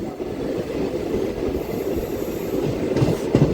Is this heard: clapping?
no